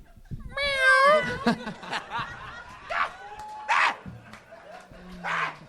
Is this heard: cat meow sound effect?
yes